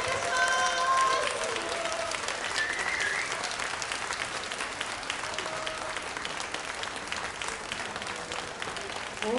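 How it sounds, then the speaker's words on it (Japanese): An audience applauds after a jazz quartet's set at a JR Sendai Station concourse show during the 2018 Jozenji Streetjazz Festival, a full, even roar of clapping that holds strong and tapers slightly toward the end. "皆様さらなる拍手をお願いいたします。"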